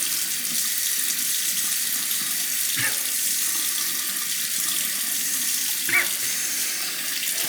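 Water runs and splashes as it is mixed into slurry on a Chinese natural hone, a soft continuous trickle with two brief faint knocks.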